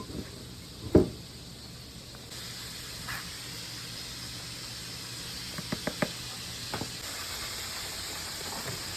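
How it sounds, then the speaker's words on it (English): Green beans sizzle in butter in a pot on the stove with a soft, steady hiss, broken by a few small pops and clinks of utensils, fairly quiet and close. "Set these on the stove in a pot. And let them saute in some butter."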